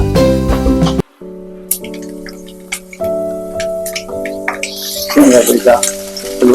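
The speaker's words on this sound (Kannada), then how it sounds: "ಸ್ವಲ್ಪ ಎಣ್ಣೆ ಹಾಕೋಬೇಕು ಮತ್ತು ಸಾಸಿವೆ ಹಾಕೊಂಡು ನಂತರ ಸ್ವಲ್ಪ ಶೇಂಗಾ ಬೀಜ" Mustard seeds and peanuts fry in oil for mango rice, a light crackling sizzle that grows busier toward the end, over steady tonal background sound.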